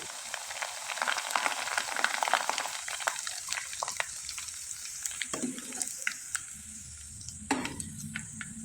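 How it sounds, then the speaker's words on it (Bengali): Jhorna pitha batter coloured with food colouring frying in hot oil, a steady close sizzle with bubbling bursts and occasional sharper crackles, no talk over it. "এবার ফুড কালারের কিছুটা পরিমাণে ভেজে দেখিয়ে দিচ্ছি"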